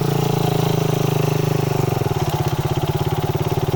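A stock Sniper 150 or Raider 150 motorcycle engine runs steadily near the listener, its throbbing firing pulses slowing and deepening midway into a coarse, lumpy putter with no voices over it.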